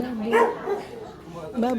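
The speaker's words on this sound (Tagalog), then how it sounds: "May aso pala dito." A dog barks and yips a few times nearby, mixed in with people talking close to the recorder.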